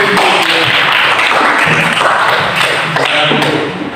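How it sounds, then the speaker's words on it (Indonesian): A classroom group claps together in a dense, loud burst of applause that runs steadily for about four seconds before easing slightly at the end, with no voices over it. "Baik, berikan aplaus."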